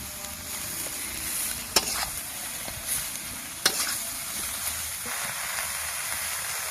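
Water lily stems fry with turmeric in a pan for a hilsa-head sour dish, a steady close sizzle broken by two sharp spatula knocks and soft stirring scrapes.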